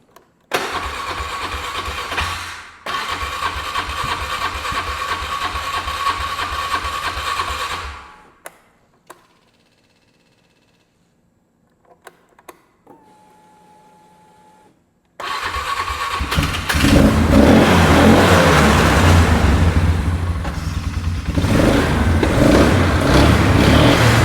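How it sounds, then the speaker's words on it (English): A broken UTV's engine cranks and catches, then idles loud and steady. After a pause it starts again and revs hard, close by, with no voices. "We're gonna try to take this thing for a spin, see if it'll rip and dip."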